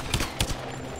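Two sharp gunshot bursts ring out in Lara Croft and the Temple of Osiris, a quarter-second apart, with a quieter game-ambience bed between them.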